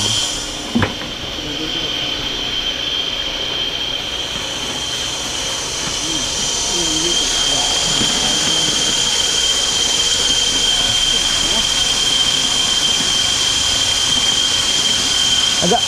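A deep well drilling machine runs steadily at an installation site, a loud continuous mechanical drone with a high whine, joined by scattered clanks and faint voices in the background.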